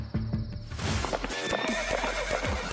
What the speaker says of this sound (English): the man driving the buggy, who explains that his horse got spooked when a strap accidentally hit it in the behind